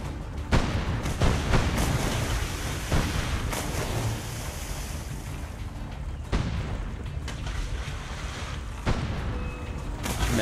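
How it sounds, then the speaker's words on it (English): Dense, continuous naval combat audio in Assassin's Creed: Brotherhood with repeated booming ship cannon blasts and explosions, loud and close, filling the whole stretch. "Need to avoid the cannons."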